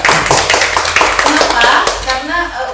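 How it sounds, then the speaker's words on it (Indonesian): Nursing students in a classroom clap together in a quick, dense round of applause that fades over about three seconds, with voices mixed in. "Oke, tepuk tangan lagi."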